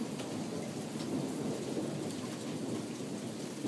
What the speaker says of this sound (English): As you can hear, there's quite a storm out here.